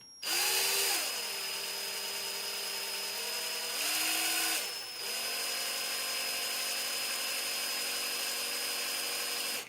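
A power drill on its low setting whines steadily at high speed, boring through material with a guide to fit a PTS Masada extended bolt release, its pitch dipping and rising as it bites, then running on with a steady drone.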